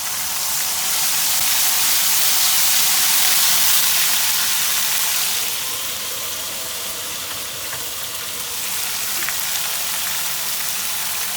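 Onion, garlic and ginger frying in a pan give a loud, continuous sizzle and hiss that eases slightly midway and carries on steadily.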